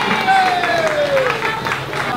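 Audience applause for a band at a live outdoor festival in Guadeloupe, steady dense clapping and crowd noise with a sustained tone running through.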